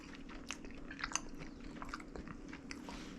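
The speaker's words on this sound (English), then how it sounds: "can hear the crunch" Close-up crunching bites into crispy fried stinky tofu, a series of sharp crackly crunches and chewing with no talking.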